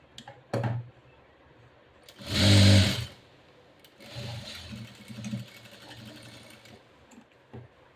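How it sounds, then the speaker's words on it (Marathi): Sewing machine stitching hook-and-eye tape: a loud, near burst of whirring stitches lasting about a second, with a few softer clicks around it and a longer, quieter run of stitching afterwards. "इथं देखील एक शिलाई देऊन घ्यायची"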